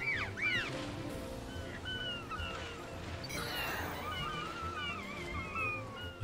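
Seagulls cry in the video game New Pokémon Snap at the Copia Reef stage, with repeated wavering calls rising over a steady rush like surf.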